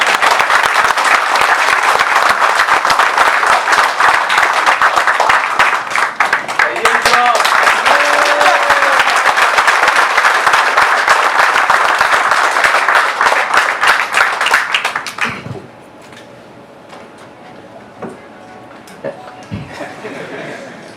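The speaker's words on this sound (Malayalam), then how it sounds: "ഇതുവരെ കൈയടി നിലച്ചിട്ടില്ല." Sustained loud applause from a crowd at an award ceremony, thick and continuous for about fifteen seconds before dropping abruptly to quiet room sound with faint scattered claps.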